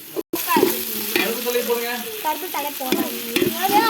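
Ginger, garlic and onion sauté in a pan during a village cooking session, a close, steady sizzle broken by repeated scraping stirs of the spoon across the pan.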